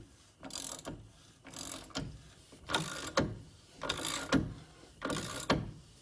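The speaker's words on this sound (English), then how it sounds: "Then the actual wheel bearing can be pressed in place with that tool that we used earlier" Rear wheel bearing of a 2007 Subaru Impreza being pressed into its hub with a threaded press tool, giving five evenly spaced bursts of mechanical ratcheting and grinding, close and moderately loud, with no talking.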